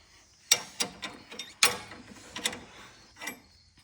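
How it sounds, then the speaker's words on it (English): A spanner working a nut loose on a mechanical assembly, giving a series of sharp metallic clicks and ratcheting knocks spaced irregularly, close and fairly quiet, with no talk over it. "You got to undo that nut, so get your spanner."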